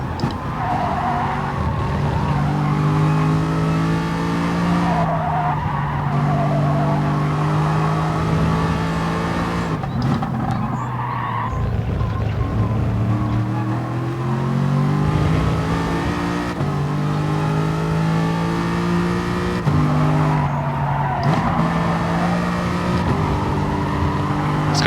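Race car engine and tires in GT Sport during FIA Championship warm-up laps: a loud, continuous high-revving engine that climbs and drops through gear changes, with tire squeal and skidding through corners, heard alone throughout.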